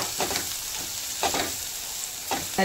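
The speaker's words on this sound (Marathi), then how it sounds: "आता त्याला मस्त तेलामध्ये मिक्स करून घेऊया कमी गॅसवरती" Bottle gourd with turmeric and red chilli powder stirred in oil over a low flame, giving a steady soft sizzle with three scraping stirs spaced about a second apart, no voices.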